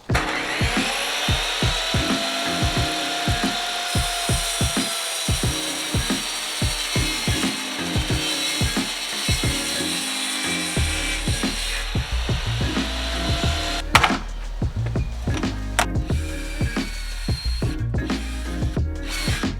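A saw cuts steadily through wood while a base cabinet piece is made for a mobile coffee bar. The rapid, rhythmic rasping strokes run loud and continuous throughout, with no talking.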